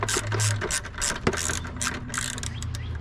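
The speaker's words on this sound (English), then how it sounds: "easy to loosen bolt" A ratchet wrench loosens a 10mm bolt on a 2009-2011 Acura TSX headlight, with quick rhythmic clicking of the pawl in several close bursts.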